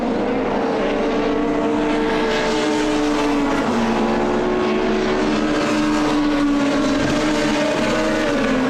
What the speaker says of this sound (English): We're on board here with championship reigning champion Andy Priaulx in the BMW 320.